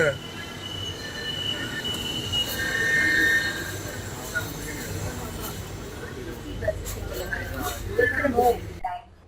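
A Hyderabad Metro Red Line train rumbling along the track with steady low-end roar, faint wheel squeal and a few clanks, close and continuous throughout.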